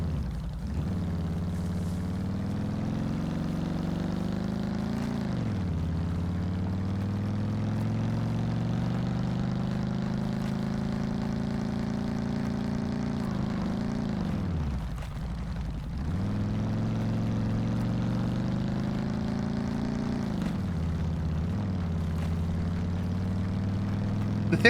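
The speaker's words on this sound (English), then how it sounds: "heli is going to shoot me if it sees me" A video game attack helicopter drones steadily with a throbbing rotor hum that rises and falls in pitch as it moves, fairly loud and continuous with no talk.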